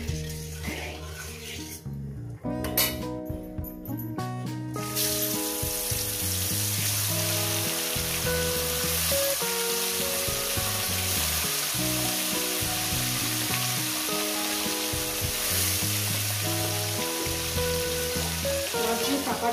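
Parshe fish with turmeric hits hot oil in a pan, starting with a few clatters and then settling into a steady, loud sizzle that continues under soft background music.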